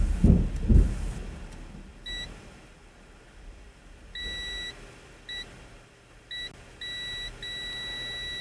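Multimeter in continuity mode, probing pins on an Atari STFM board, gives a series of short electronic beeps, some clipped and some held longer, after a brief rustle of handling at the start.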